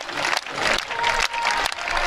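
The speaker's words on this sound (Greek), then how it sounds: "Ας χειροκροτήσουμε κι εμείς από εδώ." Spectators clapping at an Athens street pole vault meet, a dense burst of applause that is loud and close and fills the whole moment.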